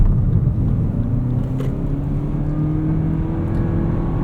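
A 2025 Lexus UX 300h F Sport hybrid accelerates in Sport Plus mode, its engine a steady, close, loud rumble with a drone that climbs slowly in pitch as revs build, heard from inside the cabin with no talking.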